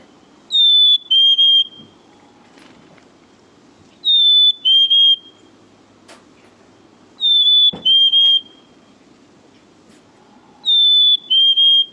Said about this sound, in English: the real song of the chickadee is what we call the "Hey, sweetie" sound